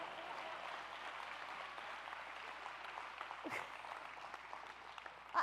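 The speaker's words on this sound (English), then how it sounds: "Y'all can clap for that" Audience applause at a county state-of-the-county address, a soft, even wash of many hands clapping, fairly distant and steady, ending with a brief louder bump.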